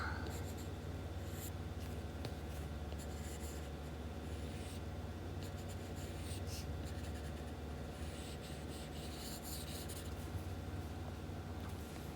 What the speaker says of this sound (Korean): 마저 색칠 해줄게요